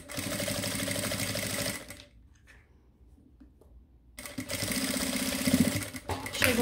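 A sewing machine stitches a leather wallet in a steady, fast mechanical chatter. It runs close and clear, pauses for about two seconds, then starts again.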